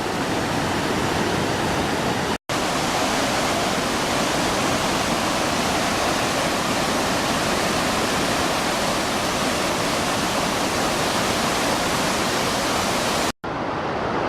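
Waterfalls at Agua Azul heard from a lookout at the top of the falls, a loud, steady broadband roar of rushing water that continues unbroken, with no voices.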